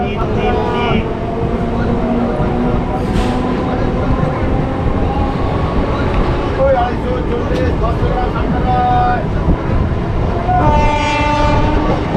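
A train leaves Howrah station after a two-minute halt. Its wheels clatter continuously up close, horn blasts sound midway and near the end, and voices chatter underneath.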